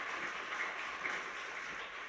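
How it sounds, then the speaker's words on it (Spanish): Faint, even applause fills a chapel at a Mass as the congregation claps for the musicians, a soft, distant wash of many hands that stays steady throughout. "Fuerte aplauso entonces para nuestros músicos."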